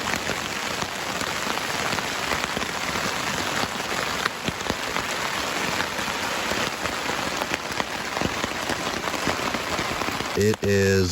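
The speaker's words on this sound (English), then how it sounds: "it's raining so hard. It's pretty loud on the tarp." Heavy rain drums loudly and steadily on a camp tarp during a thunderstorm in a national forest, a dense, close patter that barely lets up.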